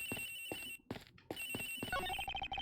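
A telephone ringing in the Ace Attorney Investigations video game, a string of quiet electronic ring bursts in a quick repeating pattern.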